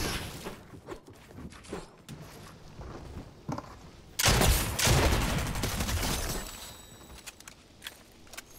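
SMG gunfire in the Fortnite video game, with a long dense burst of rapid shots in the middle of the clip, loud and close, among scattered shorter pops and footsteps.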